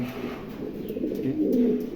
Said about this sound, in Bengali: এক জোড়া পমিনিয়ান আছে অনেক বিগ সাইজের কবুতর